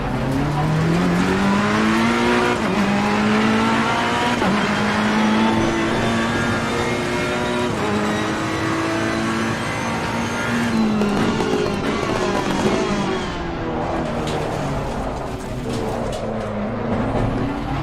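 Ferrari race car in the video game Assetto Corsa Competizione, its engine droning and revving steadily and loudly through gear changes with shifting pitch, continuous and up close.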